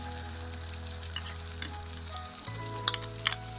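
Chicken with green chilies frying in a pan for a Pakistani village-style recipe, giving a steady, close sizzle with a few sharp stirring clicks toward the end.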